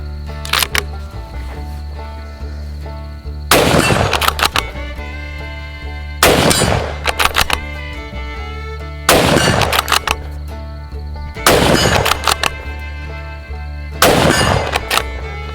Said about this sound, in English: just shooting this now that I've put a few rounds through it